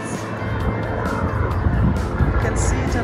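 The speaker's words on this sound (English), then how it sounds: "Helicopters. Probably the police or the news reporters." Helicopters flying over New York fill the air with a steady, fairly loud rotor and engine rumble that holds without a break for a few seconds.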